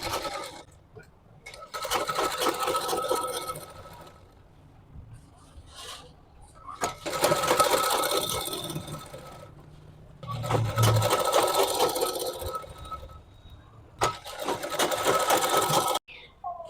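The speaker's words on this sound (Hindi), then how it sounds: "यहाँ हम आधे इंच पे सिलाई लगाएंगे" Sewing machine stitching a half-inch seam along the waistband of palazzo trousers, running in several steady bursts separated by short pauses, close and fairly loud.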